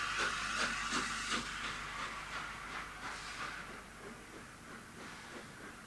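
LNER Peppercorn A2 class Pacific steam locomotive Blue Peter working steadily, its rhythmic exhaust beats and hiss repeating at an even pace, heard from a moderate distance and fairly faint.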